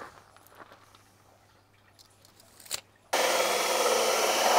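Rain gutter pipe being cut for a float valve section; after a few quiet seconds of small taps and rubbing, a loud, close rasping cut starts abruptly and continues steadily to the end.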